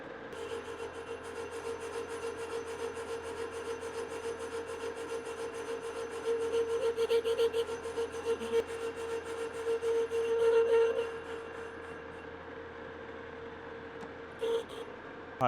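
A lathe takes a cut while turning an adapter flange for a capstan, giving a steady mechanical hum with a whining tone, rising to rougher, louder scraping in the middle before settling, with a brief knock near the end.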